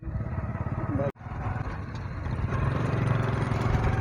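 A motorcycle runs with a steady low engine chug, cutting out briefly and then picking up and growing slightly louder as it is ridden, with a voice now and then over it.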